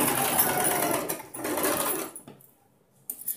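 Sewing machine stitching blouse fabric, a steady close mechanical whir that runs for about two seconds, pauses briefly, then stops, with a short burst of handling noise at the end.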